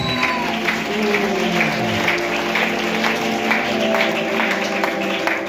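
A church congregation applauds, a dense, steady patter of many hands clapping together with faint crowd murmur, sustained through the whole stretch without a spoken voice over it.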